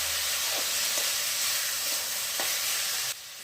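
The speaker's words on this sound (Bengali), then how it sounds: "এবারে এই কষানোর সময় আমি দিয়ে দিচ্ছি চিনিটা দিয়ে ভালো করে মশলাটা আরও কষিয়ে নিচ্ছি" Chicken masala frying with sugar in a pan, a loud dense sizzle with a few soft stirring knocks, ending abruptly as the hiss drops away.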